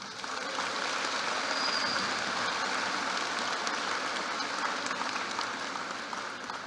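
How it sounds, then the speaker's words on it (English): A large audience gives a sustained round of applause for school staff and teachers at a graduation ceremony, a dense, even roar of many hands clapping that holds steady for several seconds before tapering slightly. "Let's give them all a round of applause."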